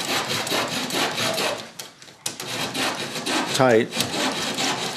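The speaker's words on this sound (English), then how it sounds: "this time I'm going to use my dowel saw to trim the ends off" A dowel saw trims protruding wooden dowel ends, with rapid close rasping strokes in short bursts, a brief pause midway and a squeak near the end, as a voice speaks briefly.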